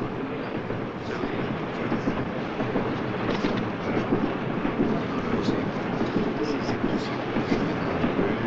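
A train rolls on its rails, heard from inside a passenger car: a steady, full rumble with faint rhythmic clicks and rattles running throughout, close and continuous.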